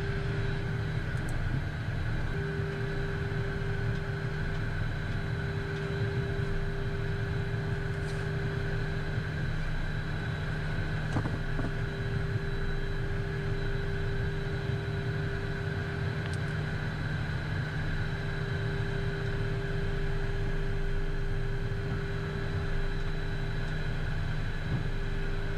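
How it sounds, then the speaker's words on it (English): Inside the cockpit of a Cessna Citation X business jet after landing, a steady engine and cabin drone holds with constant tonal hum and broadband hiss, no talk, unchanging throughout. "Citation 10. It's a nice airplane."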